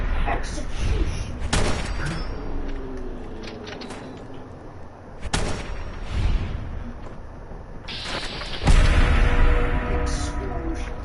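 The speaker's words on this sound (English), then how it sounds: "Explosion." Explosions and gunfire in the video game Fallout 4, with several sharp broadband blasts, the loudest and longest boom near the end, over a busy bed of game noise and faint speech.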